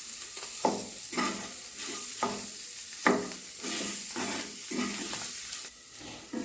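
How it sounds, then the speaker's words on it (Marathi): Potatoes frying in a pan on Indian stuffed capsicum (Shimla mirch) prep are stirred with a spatula, a steady sizzle broken by regular scraping strokes about every half second, close and moderately loud, no talk. "आणि यात आपल्याला हे परतवत राहायचं आहे।"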